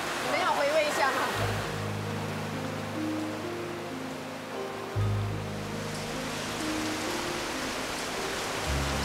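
Rain falls outside in a steady, even wash of hiss, moderately loud, while a low droning hum cuts in and out beneath it and a voice briefly speaks at the start.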